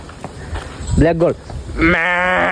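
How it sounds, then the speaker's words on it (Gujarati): Livestock goats on a rural farm give two loud, close, wavering bleats, one brief and one drawn out, with people talking nearby. "એટલે બકરી એમ બોલે"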